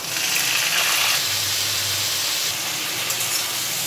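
Ridge gourd dropped into a hot wok of mustard oil with five-spice tempering, a loud close hissing sizzle that holds steady, then eases slightly partway through.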